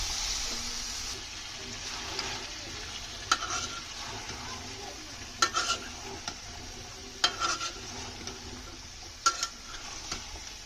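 Beans sizzle in a pan with turmeric, chili, ginger paste and garlic paste, giving a steady, moderately quiet frying hiss. Sharper scraping stir strokes break through it every couple of seconds.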